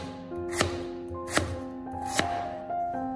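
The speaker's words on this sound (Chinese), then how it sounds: "准备一块生姜，把生姜切成厚一点的薄片" Knife chopping fresh ginger into thick slices on a cutting board, three sharp, evenly spaced chops standing out clearly in a quiet kitchen.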